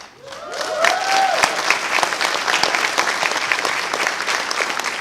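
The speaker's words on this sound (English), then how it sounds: "So please give a big round of applause for our guests of honor" A convention audience at a furry event's opening ceremony bursts into sustained applause for guests of honor, dense clapping with a few brief whistles near the start, filling the whole stretch at steady loudness.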